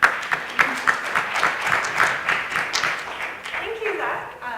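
Conference attendees applaud a speaker with scattered, moderately loud claps from a crowd, while a voice talks over the clapping as it winds down.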